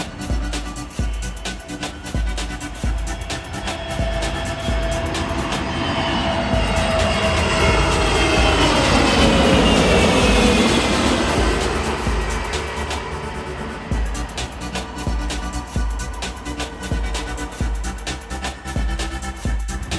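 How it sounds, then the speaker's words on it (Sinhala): A propeller plane lands at Katunayake airport, its loud roar building to a peak near the middle as it passes close, then fading away again, with the pitch sweeping down as it goes by. "දැන් ඔය ඉන්නේ කටුනායකට ලෑන්ඩ් කරන ප්‍රොපෙලර් ප්ලේන්"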